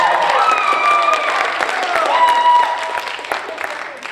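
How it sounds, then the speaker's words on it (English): Audience at a tenth-grade story slam applauding its storytellers, a steady close wash of clapping mixed with cheers and children's shouts, voices rising above it throughout. "how about one more round of applause for all of our storytellers today?"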